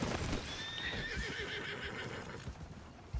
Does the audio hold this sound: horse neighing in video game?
yes